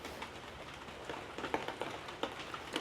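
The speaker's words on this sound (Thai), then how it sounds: "ก็คือตอนนี้นะฝนยังตกเนาะ" Rain falls steadily throughout, a broad hiss with scattered louder drops and patters, fairly faint and without talk.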